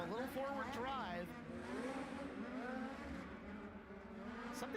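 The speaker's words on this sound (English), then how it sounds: "Something sounds different about the timber of the engines at the moment out there." Race car engines roaring around the dirt track at the Chili Bowl Nationals, distant and steady with rising and falling engine pitch as cars pass, under a commentator's voice.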